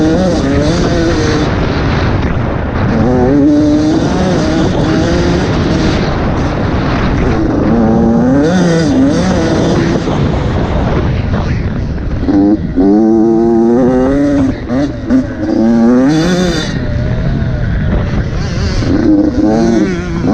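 An enduro motorcycle on a race lap at a fall sprint enduro in Battle Creek, Michigan, its engine loud and close, rising and falling in pitch as the rider shifts and throttles hard through the course.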